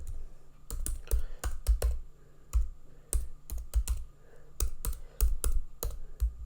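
Computer keyboard keys clatter in quick irregular bursts as code is typed, close and fairly loud, with short pauses between runs of keystrokes and no voice.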